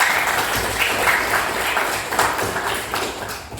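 A ninth-grade class applauds together in their classroom, a steady burst of many hands clapping at close range for several seconds, with little talk.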